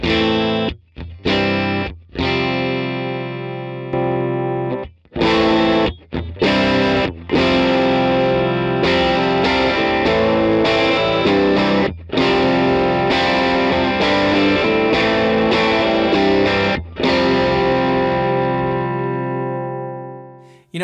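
Electric guitar through a Free The Tone String Slinger SS-1V overdrive pedal into an amp plays strummed chords and riffs with short breaks, thick gritty distorted tone sustaining loudly for most of the passage.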